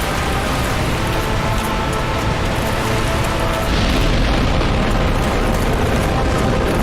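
A boss in the Dark Souls Remastered video game unleashes area-effect fire explosions, a loud, dense, continuous roar of crackling blasts that swells further partway through.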